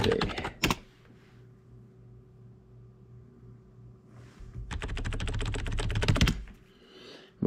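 Fingers type on a keyboard, likely a phone or computer, in a quiet room. A soft burst of clicks comes at the start, then a long run of fast, close keystrokes, with a low steady hum in the background.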